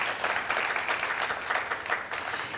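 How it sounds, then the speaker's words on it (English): An audience bursts into sustained applause, a dense, steady clatter of many hands clapping that fills the whole moment without a voice over it. "Let's give them all a round of applause."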